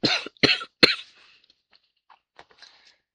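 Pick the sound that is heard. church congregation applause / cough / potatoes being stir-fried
cough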